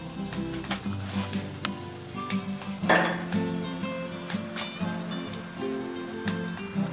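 A beef chuck roast cooks on a Char Broil Tru Infra Red grill with a continuous sizzle, broken by scattered metallic clinks and scrapes of utensils.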